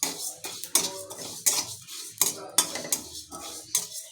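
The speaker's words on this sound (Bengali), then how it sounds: "এই যে একটু জিরা ভাজা করে নিচ্ছি" A metal spoon scrapes and clinks against a pan while cumin seeds fry, with repeated irregular stirring knocks over a faint sizzle, close and moderately quiet, and no voices.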